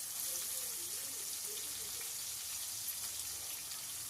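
Chopped onion frying in oil in a pan over a medium flame, giving a steady, soft sizzle and crackle that runs without a break, close and fairly quiet.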